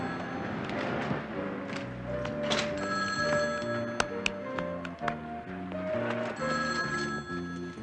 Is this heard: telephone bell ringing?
yes